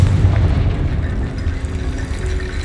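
The Confringo fire-blast spell goes off in Hogwarts Legacy with a loud, deep booming rumble that holds steady for nearly three seconds with no pause.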